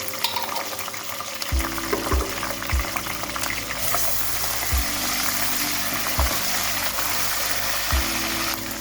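Ginger garlic paste frying with browned onions for a peas chicken pulao, a steady broadband sizzle with several sharp spoon knocks against the pot spread through the clip.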